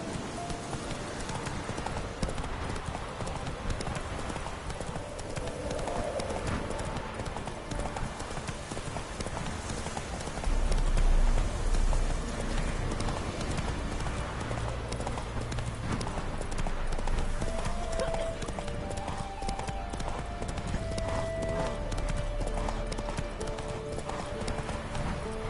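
Roach, the horse in The Witcher 3, gallops steadily, hooves pounding in a fast, continuous loud rhythm beneath game music and wind for the whole stretch.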